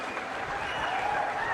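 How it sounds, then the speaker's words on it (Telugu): Audience clapping in a hall during a government review meeting, a steady close wash of applause lasting under two seconds with faint voices mixed in. "గట్టిగా చప్పట్లు కొట్టి అభినందించండి"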